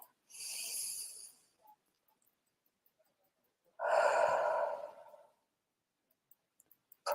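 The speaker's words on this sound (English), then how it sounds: "So take a deep breath." A slow, deep breath drawn in and then let out during an EFT tapping session, close and clear, with a long airy inhale, a pause, and a fuller exhale.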